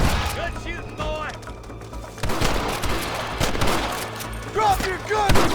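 Gunfire rings out in the video game Red Dead Redemption, with scattered shots and thuds over a rumbling background while voices talk throughout.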